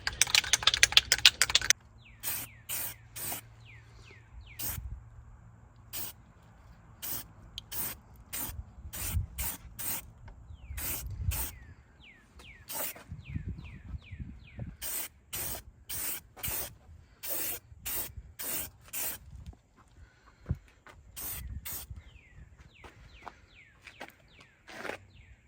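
Short spray-can bursts of paint applied under a 1984 Camaro Z28, dozens of crisp hissing puffs in an irregular rhythm, close and fairly quiet, with faint rustling between them.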